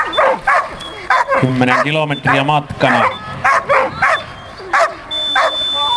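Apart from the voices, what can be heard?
dog barking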